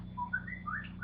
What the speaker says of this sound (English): I can't whistle, but my phone can.